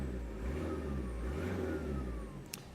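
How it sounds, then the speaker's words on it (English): A 1993 Toyota TownAce wagon with a turbo diesel engine, a cab-over van, revving briefly at close range. A steady mid-pitched engine drone rises slightly and then settles, with a small click near the end. "Let's just give it a little rev so you can hear it."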